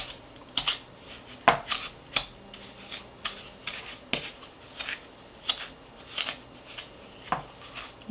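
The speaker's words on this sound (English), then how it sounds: "add the sugar and the vanilla, and I'm going to beat it together" A wooden spoon beats sugar and vanilla in a bowl, giving close, irregular knocks and short scrapes against the bowl every half second or so, with no talking.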